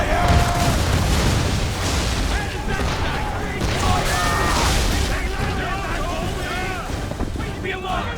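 Naval cannon fire from sailing ships in Assassin's Creed 3, heavy booms rolling out repeatedly over rushing water and wind, with shouted voices throughout.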